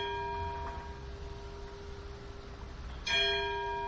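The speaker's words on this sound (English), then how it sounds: "The deep, hollow note of the church bell breaking each hour the" A church bell strikes once near the end with a sharp, ringing clang and a long humming decay, after a faint lingering tone from an earlier stroke against quiet background noise.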